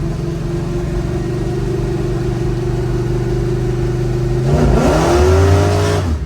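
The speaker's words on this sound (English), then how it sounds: "That's at 55 miles an hour, stabbing the throttle." A 1972 Chevrolet Chevelle with a 572 engine cruises at about 55 mph with a steady loud drone, then the throttle is stabbed and the engine note surges and climbs sharply as the car accelerates hard.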